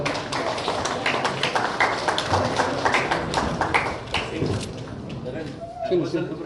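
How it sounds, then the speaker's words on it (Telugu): Crowd applause at a passbook handover ceremony for Sukanya Samriddhi Yojana and RD account holders, a dense, steady patter of many hands clapping throughout, with voices mixed in underneath and a brief lull near the end. "సో అందరూ ఒకసారి గట్టిగా చప్పట్లతో"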